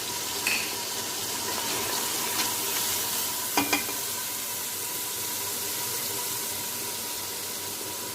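Chopped green chilies and ginger frying in a pan while being stirred, a steady close sizzle broken by a few faint clinks of a spoon against the metal.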